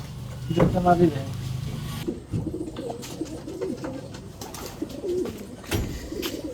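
Racing pigeons in a loft at dusk, cooing in low, repeated throaty rolls close to the listener, with someone talking intermittently over them and a brief wooden knock partway through.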